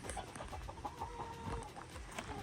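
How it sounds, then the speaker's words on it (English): Layer hens cluck and murmur in a pen on a Jamaican yam farm, a steady low flock chatter heard fairly close with scattered sharper calls. "Layer chicken here. See? I have layers here, so."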